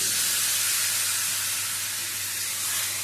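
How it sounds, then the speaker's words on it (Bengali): Water poured into a pan of fried pointed gourd and spices, giving a loud, close, steady hissing sizzle with a burst of steam that carries unbroken for the full few seconds, no voices. "দিয়ে দিলাম মশলার বাটি ধোয়া জল।"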